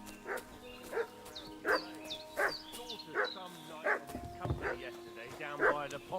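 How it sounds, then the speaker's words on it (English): A dog in the video game Kingdom Come: Deliverance 2 barks repeatedly in a steady rhythm, about eight sharp barks, while voices speak over part of it. "What's that dog making such a fuss about?"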